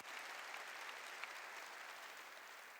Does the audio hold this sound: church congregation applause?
yes